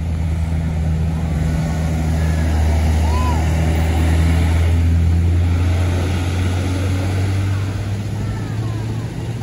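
A Gemina Trans tour bus nicknamed Tuan Putri rumbles past on the road to Pangandaran, its loud, steady low engine drone holding throughout amid traffic, with voices talking over it.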